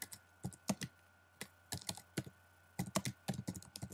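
Typing on a computer keyboard, with quiet, close, irregular clusters of key clicks separated by short pauses.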